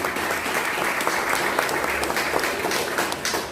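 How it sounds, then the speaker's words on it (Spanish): Members of a Pentecostal church congregation clap for the Lord, a full, continuous wash of applause at constant loudness, free of talk. "mejor dale las palmas al Señor."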